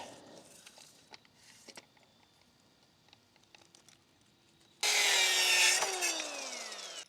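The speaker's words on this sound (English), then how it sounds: "So I need to cut these boards at 30 to make my sides and middle support." Wooden boards are cut for an outdoor table build, with quiet scraping and handling noises before a loud burst of power sawing starts partway through and carries to the end.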